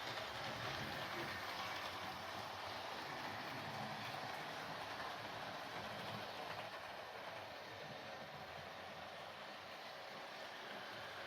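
A Hornby 4-4-0 County model locomotive runs around its track with a soft, steady rolling whir and faint rail clatter, continuous and fairly quiet throughout, with no talking.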